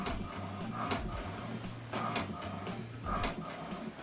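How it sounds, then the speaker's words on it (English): A home printer being connected to a mobile phone prints an alignment page, its print head passing in rhythmic whirring bursts about once a second over a low mechanical hum, with no talking. "So what it's doing now is printing the alignment."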